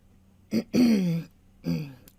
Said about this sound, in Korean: 아버님은 헛기침을 내뱉으며 다음 질문을 이어갔습니다